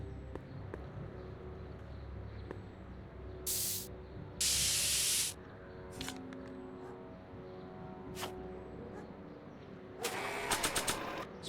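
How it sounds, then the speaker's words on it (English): Spray paint can from Back to the Future: The Game hisses in two loud bursts, one short and one longer, over a quiet ambient hum, followed by a brief rattling shake of the can near the end. "Spray paint."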